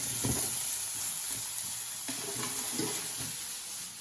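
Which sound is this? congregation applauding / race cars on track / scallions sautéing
scallions sautéing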